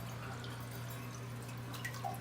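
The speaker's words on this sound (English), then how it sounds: "It just allows the water to leak a little bit." Water trickles past a worn toilet flapper valve into the bowl, a soft continuous hiss with a few faint drips, steady and close.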